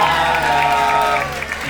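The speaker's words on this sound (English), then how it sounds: "Guys, give it up for Arianna." A studio audience claps for a contestant at a live Halloween dating show, a dense, continuous round of applause that stays strong and eases slightly toward the end.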